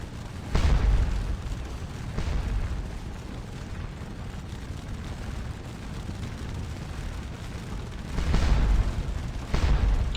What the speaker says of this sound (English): And that is the sound of French canister fire.